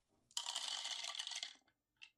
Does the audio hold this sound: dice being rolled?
yes